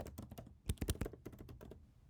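Keys tapped on a computer keyboard while entering a variable name in app-building software: a close, uneven run of crisp clicks with a quick cluster of louder strokes near the middle, no voices.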